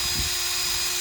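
A power drill bores a hole through wood for a handmade wooden lamp, giving a brief, steady, loud whirring grind with no voices over it.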